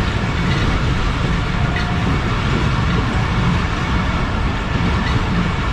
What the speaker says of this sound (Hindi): ट्रैक चेंज करके ट्रेन हमारी प्लेटफॉर्म लाइन की तरफ बढ़ रही है।